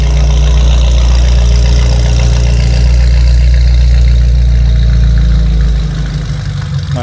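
A BMW G80 M3 engine idles loudly and steadily with a deep, diesel-truck-like rumble, then settles slightly quieter near the end as it warms up.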